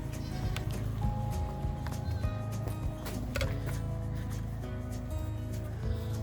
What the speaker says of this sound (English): me see what's going on with these goats.